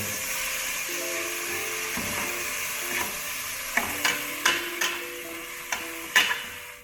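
Red beans are stirred into buttered rice in a pot over a low sizzle, with a sparse run of sharp clinks and scrapes from a utensil in the second half and no talk.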